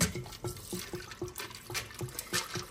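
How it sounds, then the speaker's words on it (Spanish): Water pours into a tall glass packed with ice in a home kitchen, a steady trickling stream broken by regular clinks and splashes, close and moderately loud with no talking. "van a agarrar un vaso y le van a poner mucho hielo y le van a poner agua."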